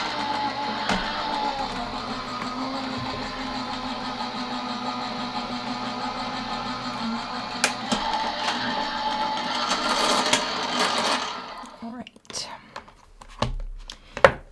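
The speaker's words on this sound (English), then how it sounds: "So I will run this through my die cut machine." A die cut machine runs a card panel through its rollers with a steady mechanical whir and hum for about twelve seconds, then stops, followed by a few light clicks and handling knocks.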